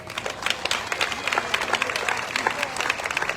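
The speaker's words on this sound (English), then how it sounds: "give Mitch a big round of applause" Crowd applause at the Jackson Apple Festival stage presentation, dense rhythmic clapping from many hands with scattered cheers, lasting throughout.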